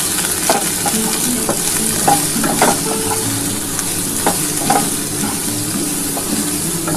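Okra frying in a pan with a pinch of sugar for a poppy-seed dish: a steady, close sizzle throughout, broken by scattered clinks and scrapes of a spatula stirring.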